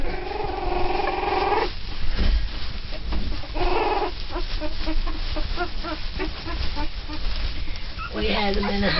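A tiny bully puppy growls and yips in high, squeaky bursts, close and fairly loud, over a rough noisy background with several short barks near the end.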